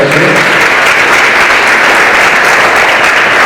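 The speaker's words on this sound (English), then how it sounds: "You can applaud that." Loud, dense applause from a seminar audience at the 2015 Mr Olympia, continuous close clapping filling the whole stretch without pause.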